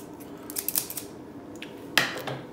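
Scissors snip a small piece off material during a keyboard repair on a Thomson TO7 computer: a quick run of close, crisp cuts, then a single sharper snip after a pause.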